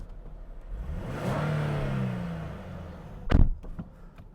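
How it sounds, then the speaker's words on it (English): A 2014 Nissan 370Z GT three-door with a 3.7-litre V6 revs up in a rising, swelling engine note that builds and fades over a couple of seconds, followed by a sharp, loud burst near the end, with no talking. "this engine, the sound is absolutely awesome."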